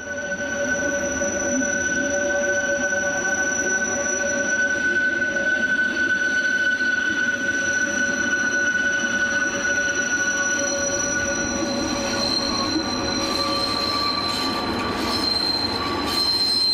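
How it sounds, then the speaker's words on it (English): A DEH44 locomotive from 1979, still carrying old FO branding, arrives on the rear of a terminating service on a Swiss railway. Loud, sustained high-pitched wheel squeal sounds over a steady rolling rumble for the whole stretch, with no voices. "Here, a DEH44 locomotive dating from 1979 arrives on the rear of a terminating service."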